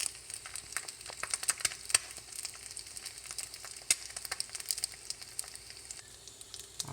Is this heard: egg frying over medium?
yes